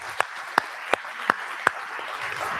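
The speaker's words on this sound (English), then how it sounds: "Everybody give them a round of applause." Five sharp, isolated hand claps at a slow, steady pace from the audience at a startup demo day, closer to scattered clapping than full applause, with a soft room murmur behind them.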